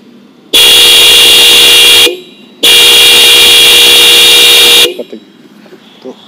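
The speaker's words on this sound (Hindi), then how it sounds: "6 के 6 हॉर्न कैसी आवाज़ देते हैं" Six Roots horns wired onto an Apache 160 motorbike blare together in two long, very loud blasts, a short one and then a longer one, with a brief gap between them, heard close up with no talking.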